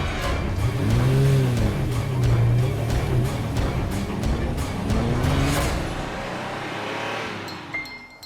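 A car drives along a road at night, its engine humming and revving steadily up close before easing off near the end.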